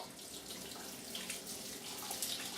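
Boiling water from a pan pours and splashes steadily into a strainer in a sink, a continuous rushing stream with hissing spatter.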